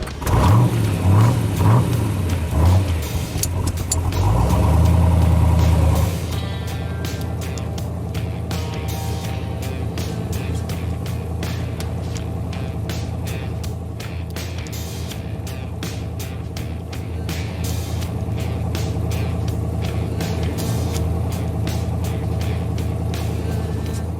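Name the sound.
427 big block Corvette Stingray engine driving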